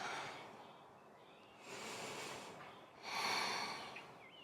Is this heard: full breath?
yes